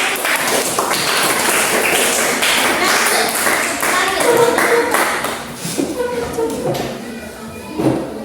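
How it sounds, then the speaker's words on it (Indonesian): Classroom applause during a fourth-grade English lesson: students clap together in a busy, steady burst that fades near the end, with scattered voices and a few louder claps. "Oke, tepuk tangan dulu untuk"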